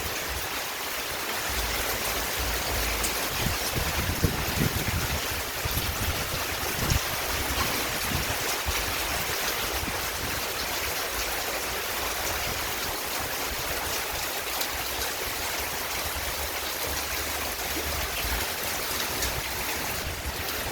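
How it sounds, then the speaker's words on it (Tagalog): Heavy rain pours steadily with rushing floodwater in a residential setting, a dense continuous hiss and wash that stays even and fairly close throughout, no voices. "Lakas ng ulan dito ngayon sa amin."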